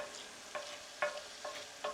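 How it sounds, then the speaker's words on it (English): Garlic reduces in a pan with a soft, steady sizzle, broken by four or five light stirring scrapes at regular intervals, fairly quiet and close. "You can't just let it sizzle down."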